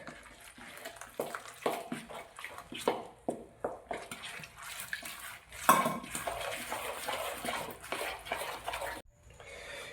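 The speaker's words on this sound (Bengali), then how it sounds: "তো একটু একটু জল দিয়ে গুলে নেবো আস্তে আস্তে।" Jalebi batter being mixed with water in a bowl, with a series of close, rhythmic scraping and clinking strokes of a utensil against the bowl and wet sloshing between them.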